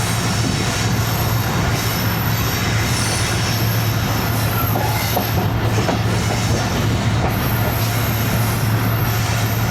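Heard from aboard the 14DN Awam Express passenger train between Rohri and Mahrabpur, a loud continuous rumble of wheels on rails fills the whole stretch, with faint squeals and rhythmic clatter.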